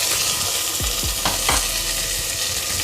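Ingredients for keema biryani fry in a pan with mint and coriander, giving a steady loud sizzle throughout. A few low spoon scrapes of stirring come through the hiss.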